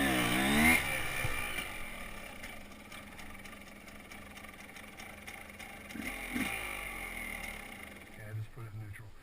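A motorcycle fitted with a Rekluse automatic clutch pulls away, its engine briefly rising in pitch at the start before settling into a steady drone mixed with wind noise, with a voice talking over it.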